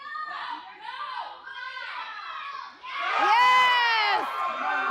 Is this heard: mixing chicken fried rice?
no